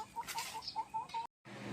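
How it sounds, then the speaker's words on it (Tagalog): Pet chickens let out in a rural yard in La Union cluck in a quick, regular series of short calls at moderate distance, followed by a brief dropout and steady outdoor noise. "Kailangan naming ilabas yung mga alaga naming manok para makapag-exercise naman sila."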